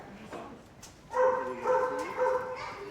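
A Boerboel, a South African mastiff-cross guard dog, barks and whines in a short burst of deep, close vocalizations, rising and falling in a few pulses.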